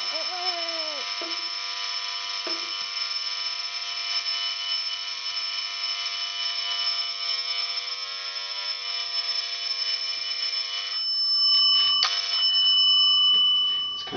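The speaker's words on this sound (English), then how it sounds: "hopefully, before we would get too much water, the alarm would go off" A sump pump water alarm, set off by simulated rainwater, sounds a loud, continuous high-pitched electronic tone that holds steady. Near the end it changes to a different, harsher beeping tone.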